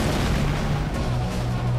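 Tanks firing in the video game GoldenEye Rogue Agent, a dense continuous rumble of booming cannon blasts and explosions, loud and close with no distinct gaps.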